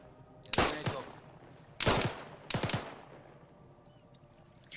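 .50 cal machine gun fire in Arma 3 comes as three short, heavy bursts of rapid shots, each with a booming echo that trails off, over a quiet background.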